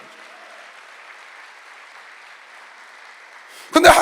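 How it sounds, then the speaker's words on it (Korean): A church congregation breaks into applause near the end, a sudden dense burst of clapping following a quiet, muffled stretch of voice. "박수하세요."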